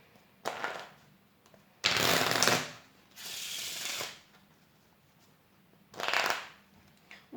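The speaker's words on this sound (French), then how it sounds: "On peut faire un mélange américain et toutes sortes de mélanges." A deck of playing cards is shuffled in several separate bursts of crisp riffling and flicking, close and fairly loud, with quiet gaps between each shuffle.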